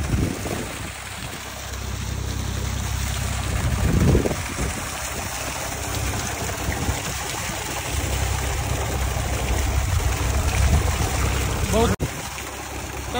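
Water gushes continuously from a newly drilled tubewell in desert sand dunes, a loud, steady rushing wash with an engine-like hum underneath that holds throughout.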